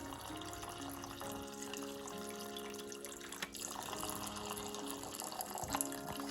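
Pork roast juices from a Puerto Rican pernil drain through a strainer in a steady, close trickle of running liquid, with light splashes and faint clinks of the strainer and pot.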